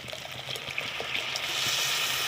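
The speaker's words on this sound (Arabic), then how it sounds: "دلوقتي هنزل عليه بالميه" Water pours steadily into a pot of spiced rice with stock for Egyptian koshari, a continuous close splashing trickle that builds slightly louder over a couple of seconds.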